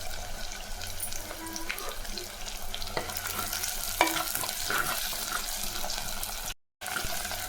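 Ingredients such as onion, tomato and green chilli sautéing in a pan for a quick sambar without lentils, a continuous hissing sizzle with occasional stirring clinks, close and fairly steady, no talking.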